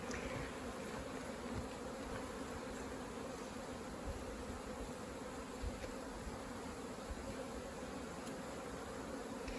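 Native honeybees buzz in a dense, continuous drone during a hive rescue in Mallorca, steady and close throughout with no talk.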